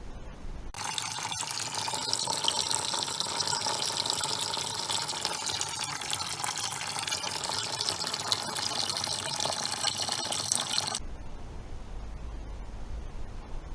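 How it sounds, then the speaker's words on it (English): Water rushes steadily through a motorcycle's cooling system during a flush on a Kawasaki ZX10, a continuous loud hiss that runs for about ten seconds before cutting off abruptly to a low rumble. "We flushed the cooling system"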